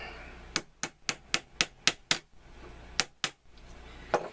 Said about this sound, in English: Shouldn't use a hard hammer like that on these,